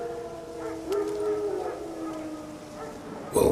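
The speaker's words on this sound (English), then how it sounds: "Wild dogs. Yes. More dangerous than wolves." Wild dogs howl in the Witcher 3 wilderness, long wavering calls rising and falling at moderate distance, several overlapping over a quiet background before a sudden loud noise at the end.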